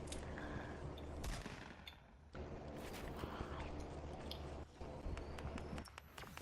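Gunfire, apparently shotgun blasts, bursts in a Fortnite match, several sharp shots spread across the moment with footsteps and game noise between them, fairly quiet overall.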